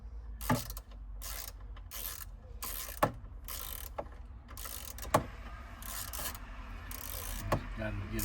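Ratchet wrench clicking in repeated bursts as a bolt is loosened on a 2019 Jeep Wrangler 2-door Sport, close and fairly loud, with occasional metallic knocks between the runs of clicks.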